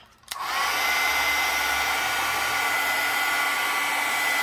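A heat tool switches on with a click and blows a steady, loud, hissing whoosh while burning paper edges and drying adhesive on a lemon-themed mixed media junk journal page.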